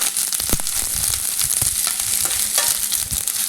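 Ginger garlic paste sizzles and fries with golden-brown onions in hot oil, a steady close sizzle broken by stirring scrapes and small pops throughout.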